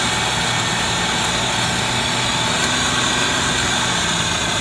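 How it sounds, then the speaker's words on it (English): A car engine idles steadily with its revs held slightly raised, a constant close rumble with no voices. "And I keep the engine idled up just a little bit."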